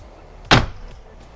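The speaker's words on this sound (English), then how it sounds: "then I can just close the door, and voila" A single sharp slam of a light screen door shutting close by, with a short springy rattle after, then quiet.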